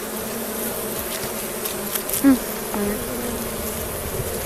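Honeybees buzz steadily at an open hive during a midsummer inspection, a dense continuous drone close by, with a few individual bees passing nearer the microphone.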